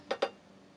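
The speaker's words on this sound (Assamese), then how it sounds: "এনেকৈ সঘনাই এইখিনি লৰাই থাকিব লাগিব।" Rice roasting in a pan while being stirred, with two quick, sharp taps close together and then a faint, quiet background.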